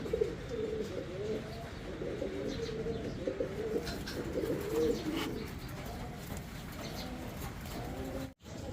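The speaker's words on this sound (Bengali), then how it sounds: "জোড়া জ্যাকোবিন কবুতর, অ্যালমন্ড কালারের ভিতরে" A pair of almond-coloured Jacobin pigeons coo in low, repeated throaty phrases, close by and fairly steady, with faint chirps and other birds in the background.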